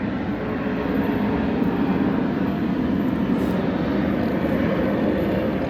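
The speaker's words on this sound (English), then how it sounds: "I love that there's a plane flying above my head" A fixed-wing airplane passes overhead, a steady, broad low roar that holds at an even level throughout without fading in or out.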